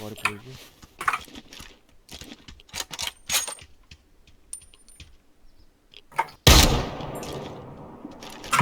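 Gunfire in the battle royale game Ring of Elysium: scattered sharp shots and clicks, then a loud close burst near the end, with players talking over it.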